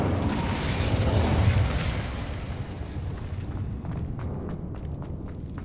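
Incendio fire spell in Hogwarts Legacy, a dense roaring whoosh of flame that swells loud for about two seconds, then settles into a crackling, rumbling tail with small scattered pops.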